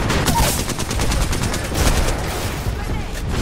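Dense, continuous automatic gunfire in the battle royale shooter Apex Legends, loud rapid bursts layered with overlapping shots from several weapons, with players' voices faintly over the barrage.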